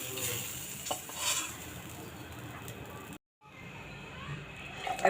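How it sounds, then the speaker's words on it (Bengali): Dried salted hilsa fish fries in a pan with a soft, continuous sizzle and occasional stirring scrapes, fairly quiet and close, with a brief silent break partway through. "আমার এই ইলিশ মাছের শুটকিটাও ভাজা হয়ে গেছে"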